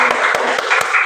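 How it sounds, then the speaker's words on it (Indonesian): Classmates in a Javanese-language class at a Year 10 senior high school clap for group two after its performance; loud, close clapping that forms a dense patter, with a few sharper individual claps standing out. "Tepuk tangan kagem kelompok kalih nggih."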